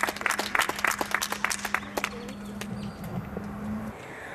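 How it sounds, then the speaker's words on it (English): Applause from an outdoor audience at a patriotic rally, a burst of clapping with cheering that fades over a few seconds beneath a steady low hum. "Everybody give her a round of applause."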